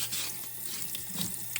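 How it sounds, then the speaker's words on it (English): Tap water runs steadily into a kitchen sink while carbon fibre is wet sanded under it, a continuous close hiss with faint splashes and scrapes, no talking. "Another way to sand your carbon, that's maybe the safest way, is wet sand it in the kitchen sink."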